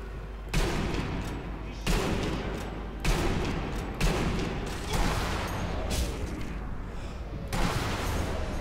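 Gunfire from the Sniper Elite V2 video game: heavy, loud shots in a rapid volley, about six booming bursts roughly a second apart over constant battle noise.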